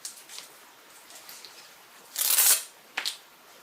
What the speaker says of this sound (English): I put double-sided tape down one side. And I'm just going to peel that off.